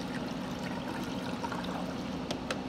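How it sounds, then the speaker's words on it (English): Sample water is poured into a test cell as a steady, even trickle and splash over a faint constant hum, with a couple of light taps near the end. "We're going to pour this into a test cell."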